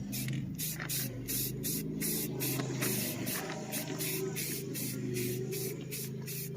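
High temperature paint hisses steadily from an aerosol can onto brake calipers in light coats, a close continuous spray with faint rhythmic pulsing over a low background hum.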